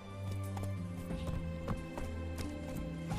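Horse hooves clip-clopping in The Witcher 3 as Geralt's horse appears, a short run of faint, rhythmic hoofbeats heard alone.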